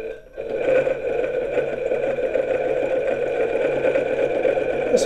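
A sewing machine stitching with a twin needle on stretch knit fabric, a steady close mechanical whir running continuously after a brief start, loud and alone.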